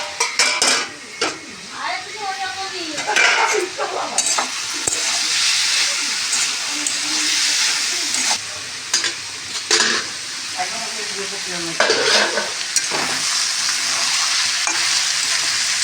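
Cabbage frying in oil in a pan with a loud, continuous close sizzle, punctuated by spatula scrapes and clinks against the pan, with brief speech-like sounds mixed in.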